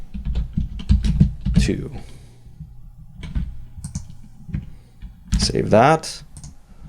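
Clicky computer keyboard typing comes in scattered bursts of keystrokes, mixed with brief speech and a mouse-like click, recorded close up during a Unity C# coding lesson.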